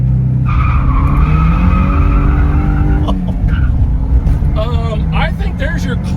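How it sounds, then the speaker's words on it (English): A 1986 Porsche 944 Turbo launches hard on a clutch pop, its engine pulling down under load while the tires squeal and spin loudly, with people talking over it. "this one just pulls the engine down and spins the tires"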